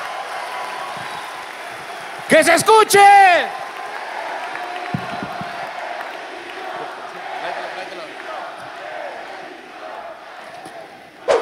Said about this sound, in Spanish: ¡Fuerte el aplauso, banda!